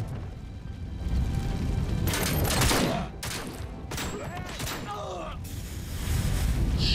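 Rapid gunfire bursts and mechanical clanks from the game Robocop: Rogue City, loud and close, layered over grinding machinery and groaning metallic effects in a dense continuous mix.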